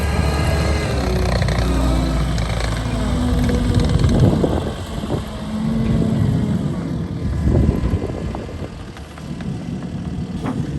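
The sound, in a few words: Blue Angels jet flyover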